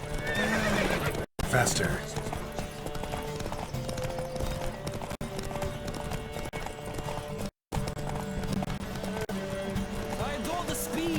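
Horse hooves clatter at a gallop with loud neighs and whinnies in The Witcher 3: Wild Hunt, a horse race, heard close and steady under riders' shouting voices and game music.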